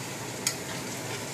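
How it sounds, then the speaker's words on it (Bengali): Mixed vegetables frying in a pan for fried rice, a faint steady sizzle with one brief sharp scrape or clink partway through. "ফ্রাইড রাইস বানাচ্ছি। সবজিটাকে ভাজছি,"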